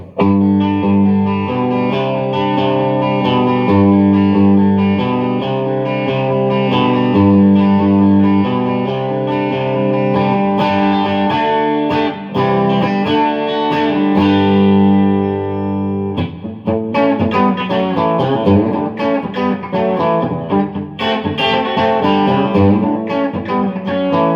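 Harley Benton Aeolus electric guitar with coil split playing sustained chords and melodic lines with a thinner, brighter tone, washed in reverb, steady and fairly loud with a brief pause mid-phrase.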